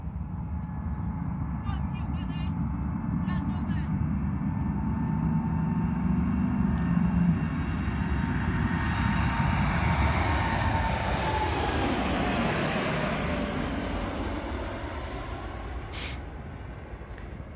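A wide-body jet passes near Charlotte Douglas International Airport, its engine roar building steadily to a loud, broad peak with a sweeping pitch shift as it goes by, then slowly fading, with no voices.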